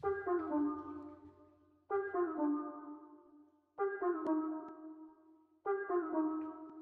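A synth lead melody made in FL Studio for an experimental sample plays alone, four sustained phrases with pitch slides, each note attacking sharply and fading before the next.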